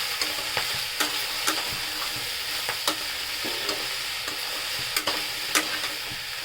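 Chana dal curry fries in a pan, a continuous sizzle broken by repeated sharp scrapes and clicks of stirring at an uneven rhythm, close and clear.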